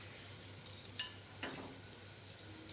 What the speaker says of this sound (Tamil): நெல்லிக்காய்க்கு தேவையான எண்ணெய் ஊற்றிக்கிறேன்.